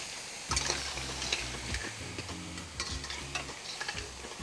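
Mixed seafood, including mussels, is stirred in a hot pan, a spoon scraping and clattering in repeated strokes over a soft sizzle, close by with no talking.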